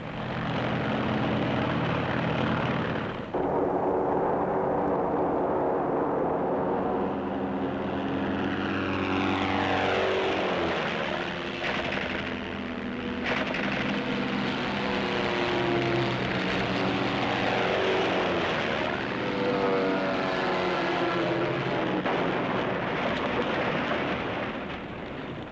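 World War I fighter aircraft propeller engines in flight, a steady droning roar with planes swooping past close by, pitch rising and falling as they pass, loud and continuous.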